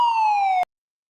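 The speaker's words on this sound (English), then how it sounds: "And we're coming in with a siren." A siren sound effect plays on a live pub-chat stream, a single loud, steady electronic tone that falls slightly in pitch and cuts off abruptly after about half a second, with nothing heard afterward.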